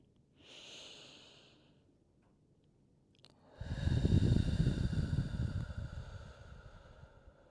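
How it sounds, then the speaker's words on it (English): Slow, deep breaths during a gentle pregnancy yoga pose: one soft inhale early on, a pause, then a longer, louder, breathy exhale close to the mic that fades gradually, with no talking. "And we'll take some deep breaths here."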